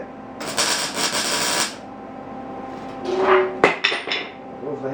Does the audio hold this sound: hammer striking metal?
yes